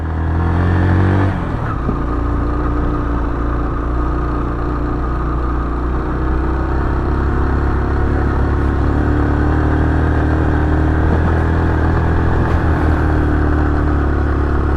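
Motorcycles climbing a track toward a fire watch tower in Karore Valley, Pakistan, with a loud, close, steady engine drone and rumbling throughout, no talk.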